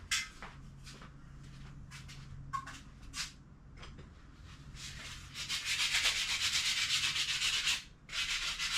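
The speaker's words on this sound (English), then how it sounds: "He's sanding on chrome." Sandpaper rubs across the chrome back of a Schwinn bicycle rear fender in short scraping strokes, then settles into a longer, steadier run of close, gritty sanding.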